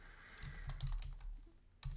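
Someone types on a computer keyboard, a scattered run of soft, close key taps with uneven rhythm and brief pauses, heard alone in a quiet room.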